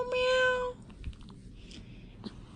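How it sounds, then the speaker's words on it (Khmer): A cat gives a single clear, close meow with a rising then falling pitch, followed by faint soft clicks and thumps in a quiet room. "ឆ្មាស្រែកម៉ាវ"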